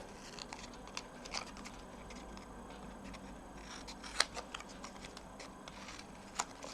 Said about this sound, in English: I'm just going to cut a little bit away from either end.